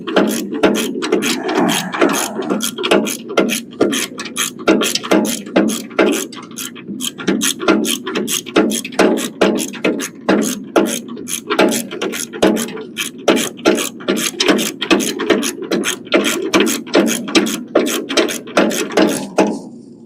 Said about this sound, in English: I'm holding the bolt with my finger in here so that it doesn't come out of the top of the wrench.